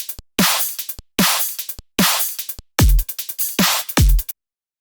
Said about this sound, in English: The drum pattern sounds like this.